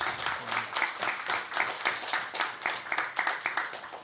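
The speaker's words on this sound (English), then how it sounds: "A warm applause." An audience at a comics and series festival in Stockholm applauds as a guest artist from New Zealand is introduced, dense continuous clapping from many hands, fairly loud and steady throughout with no talk.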